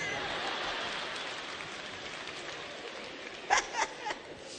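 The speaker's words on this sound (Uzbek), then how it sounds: "qarsakiylarni qattiqroq chalinglar" Steady crowd applause fills the whole stretch, dense and continuous, with a few sharper whistles or cheers near the end.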